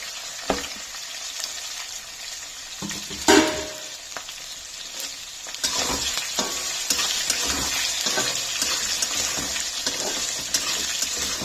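Chopped onion, green chilli, ginger and curry leaves fry in hot oil for aloo upma curry, a steady close sizzle with occasional stirring scrapes and a louder clatter near the start.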